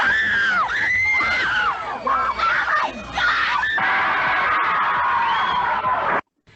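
A crowd of people screaming and cheering with high shrieks and whoops, loud and sustained, then cutting off abruptly near the end.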